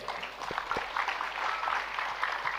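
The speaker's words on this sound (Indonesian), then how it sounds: "Kita kasih aplaus yang meriah untuk beliau." Applause from an audience at an Indonesian religious study gathering, a steady moderate clatter of many hands clapping throughout, slightly distant with room ambience.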